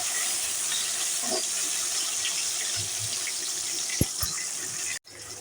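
Onions and tomatoes sauté in a pan, giving a steady, fairly loud sizzling hiss that runs almost the whole time, with a couple of brief clinks near the end before it suddenly drops away.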